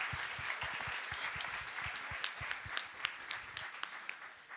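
Summit audience giving a round of applause, continuous clapping with some sharper, regular claps standing out as it carries on.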